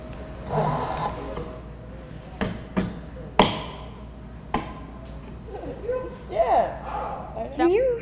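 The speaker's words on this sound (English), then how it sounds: "if we just go ahead and smack that chisel with a hammer" A steel chisel struck with a hammer into wood gives several sharp, close metallic knocks spaced a second or so apart, with people talking and breathing between the blows.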